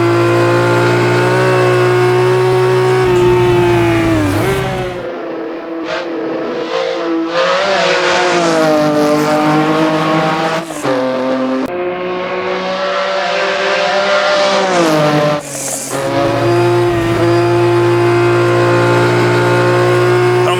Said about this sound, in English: Sounds like it's maybe an octave down from the main engine RPM note that you're hearing.